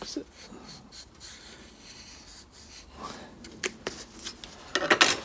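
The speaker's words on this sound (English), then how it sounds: "I'll just mark the back so it's easier to see where the scribe line is, just using an indelible pen." An indelible pen marks the back of a car exhaust manifold, producing soft scratchy rubbing strokes in short bursts, close and quiet, with a few sharper taps toward the end.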